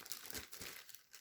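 A plastic magazine wrapper crinkles and rustles as it is handled and taped down, giving a close, quiet series of crackly crumpling bursts.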